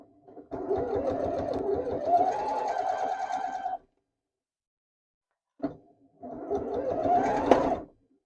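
Sewing machine stitching close to the edge of a fabric key fob, two steady whirring runs of about three seconds and two seconds separated by a pause and a short burst, near and alone.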